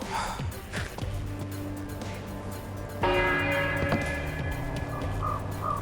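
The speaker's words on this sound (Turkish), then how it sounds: "Çanlar falan çalıyor." Church bells ring out in the video game Hello Neighbor over a steady background, growing fuller and brighter partway through, with sustained tones layering together.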